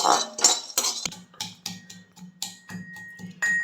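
Roasted peanuts are stirred in a hot kadhai with the gas turned off, giving a run of close, irregular metallic clinks and dry rattles against the pan.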